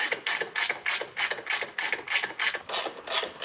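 A ratchet runs down the rocker box cover bolts on a 2004 Harley-Davidson Road King Twin Cam, giving a brisk, even train of about a dozen close metallic clicks in steady rhythm.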